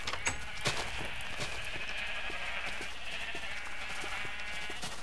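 Sheep bleat in the Minecraft video game, several short wavering cries spread over a soft, steady background, with a few clicks mixed in and no talking.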